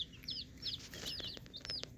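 Chickens chirp and cluck in short, high bursts, several calls overlapping at close range with no talking.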